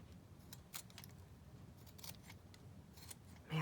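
Scissors snipping a paper bag to leave a jagged edge, a series of short crisp cuts spaced through a quiet room, close and moderately faint, with no talking.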